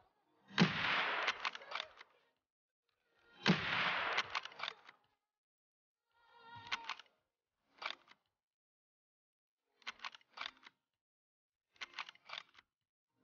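Suppressed Mosin bolt-action rifle fire in Escape from Tarkov: two sharp shots with short decays, then quieter clicks and mechanical action sounds spaced out over the following seconds, with no speech.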